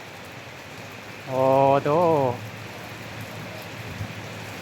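Heavy rain pours outdoors at a temple in Savannakhet, a steady soft hiss throughout, briefly interrupted by a single drawn-out voiced exclamation.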